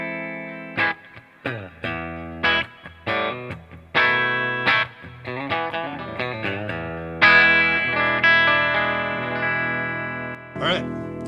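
A clean electric guitar with mini humbuckers through a Rev D20 amp with reverb plays plucked notes and chords. The phrases ring with a lingering reverb tail, and a voice is briefly heard over them.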